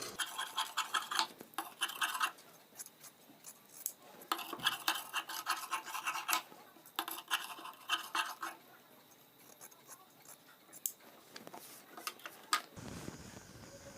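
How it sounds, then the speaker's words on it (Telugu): Fabric scissors snip through cloth pieces for cross-joint blouse stitching, giving a steady run of close, dry scratchy cuts in short bursts with brief pauses and no talking. "ఇవి ముక్కల కింద నేను కటింగ్ చేసేస్తాను."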